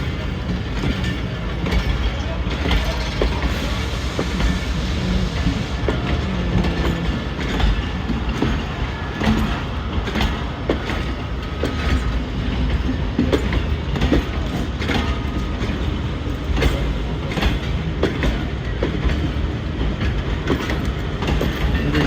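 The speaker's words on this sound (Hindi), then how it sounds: "103 अब सुबह खराम रेलगाड़ी जा रही है" A crowded passenger train running on a Pakistani railway line between Rawalpindi and Wazirabad, its steady rumble and rhythmic wheel clatter filling the scene loudly and continuously, with occasional squeals from the rails.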